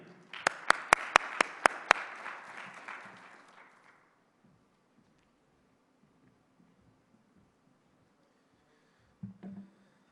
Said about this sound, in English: Let's give a round of applause for Tanir.